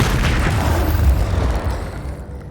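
A Confringo fire spell exploding in the video game Hogwarts Legacy, a loud deep booming blast that rumbles on for a couple of seconds before fading away.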